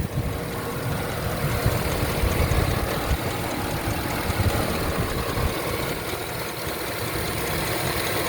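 A 2007 Chevy Suburban engine idles steadily before an engine flush, with a deep, continuous rumble and faint knocking, close and constant throughout.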